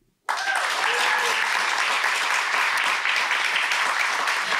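A live audience in a heritage library bursts into sustained applause that starts abruptly and holds steady, dense and fairly close.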